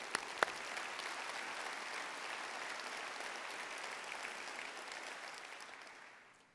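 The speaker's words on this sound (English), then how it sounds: "So a round of applause to you" Audience applause at an Air Mobility Command keynote address during the A/TA 2015 convention, a sustained dense wash of clapping from a large crowd that holds steady and then fades out at the end.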